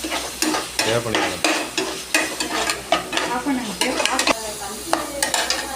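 Tomatoes sauté and sizzle in hot oil in a pan for a spicy crab fry, a loud, close crackle broken by the scrape and clatter of stirring, with no voices.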